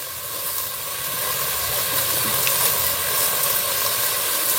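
Onions with green chillies sautéing in a pot for chicken dum biryani, giving a steady, continuous sizzling hiss throughout at moderate level, with no talking.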